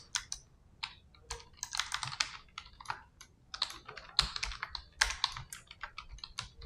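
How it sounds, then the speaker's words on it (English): Quick bursts of keystrokes on a computer keyboard, close and crisp, arriving in uneven runs with short pauses between words. "let me type it out"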